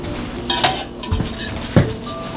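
A metal bundt pan handled and set down on a counter, a few close clanks and knocks with light scraping in between, no speech.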